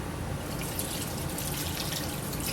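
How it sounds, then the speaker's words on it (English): Water running steadily into a pot of freshly washed rose petals, a continuous close, even splashing and trickling with no pauses or voices. "And then you're going to want to add a little bit more water."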